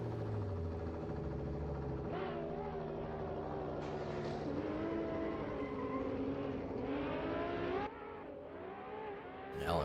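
A Pro Drift Academy Nissan S15 drift car screams down the straight at Misano during a VDC 2021 qualifying run, its engine revving hard and shifting pitch in a loud, sustained roar.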